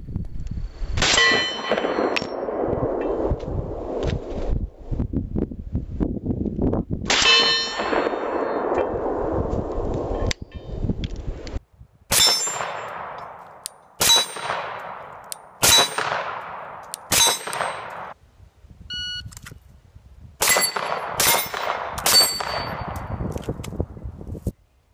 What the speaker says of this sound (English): this is 50 yards, okay, at a 10-inch gong with my OC custom trigger